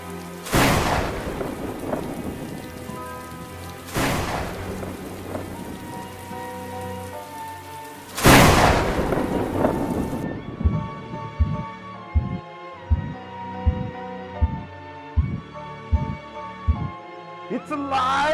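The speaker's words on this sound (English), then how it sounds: "to wait for the thunderstorm to roll in and then some lightning" Thunderstorm with heavy rain pouring onto a surface and three loud rolling thunder crashes, the last one strongest, before it drops away to a steady, regular pulsing like a heartbeat.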